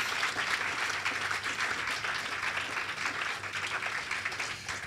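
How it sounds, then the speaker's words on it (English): Audience applause at an awards ceremony, steady, dense clapping from many hands that holds for about five seconds at moderate distance, with no voices over it. "And give a round of applause."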